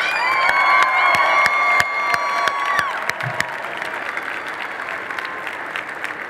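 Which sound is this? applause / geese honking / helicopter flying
applause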